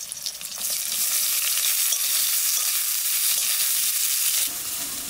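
Onions drop into hot oil with black cumin and green chillies, bursting into a loud, continuous close sizzle that holds steady for several seconds before easing slightly.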